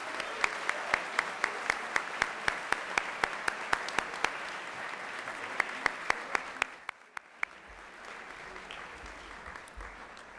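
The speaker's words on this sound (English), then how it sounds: "Please give them all a big round of applause." Audience applause fills a hall at a school convocation, steady clapping with sharp individual claps standing out, fading after about seven seconds to quiet room noise.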